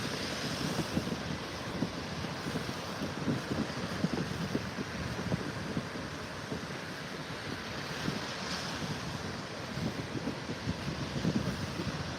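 Steady wind roars across the microphone for the whole stretch, with surf washing underneath on a North Naples, Florida beach and no voices.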